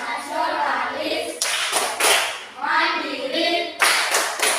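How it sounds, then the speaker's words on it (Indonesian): A classroom of children chants together and claps along in a rhythmic clap routine, bursts of group clapping breaking in between the sung phrases, close and lively. "tepuk BPK 1, 2, 3. Tepuk BPK."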